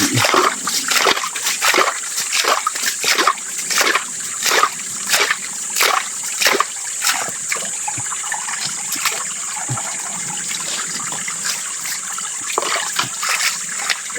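Water splashes and trickles steadily into a container, with a rapid run of repeated splashy drips over a constant watery rush.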